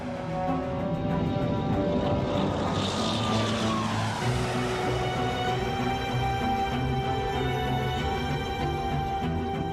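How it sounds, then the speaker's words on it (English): Propeller aircraft taking off into a stormy sky, a loud, sustained engine roar that swells and shifts in pitch as the planes power up and climb. "Both planes take off into a stormy sky."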